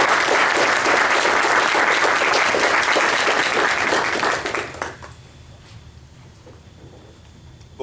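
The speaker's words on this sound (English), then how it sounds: "Please join me in giving them a round of applause." Audience at a law school speaker series breaks into loud, dense applause that holds for about four seconds, then fades quickly to a quiet room.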